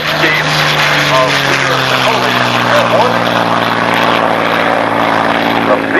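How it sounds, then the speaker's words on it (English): A C-47 Dakota taxis with its twin propeller engines droning loud and steady at an air race, the engine tones slowly shifting as it rolls along. "That's the C-47 Dakota from the War Memorial Museum, which has aboarded right now. Rolling right now"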